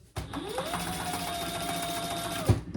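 A sewing machine stitching across a handbag, a steady close mechanical whir that starts abruptly, rises in pitch as it speeds up, holds for about two seconds and stops with a thunk.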